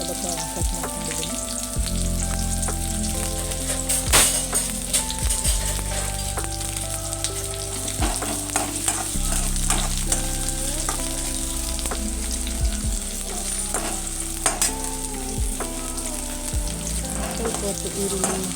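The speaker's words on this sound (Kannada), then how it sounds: "ಈಗ ಎಣ್ಣೆ ಬಿಸಿಯಾದ ನಂತರ ಕಟ್ ಮಾಡಿಟ್ಕೊಂಡಂತಹ ಈರುಳ್ಳಿನ ಇಲ್ಲಿ ಸೇರಿಸ್ತಾ ಇದ್ದೀನಿ" Thickly cut onions fry in hot oil for a restaurant-style paneer matar masala, giving a steady close sizzle with occasional scraping and stirring clatters; no voices.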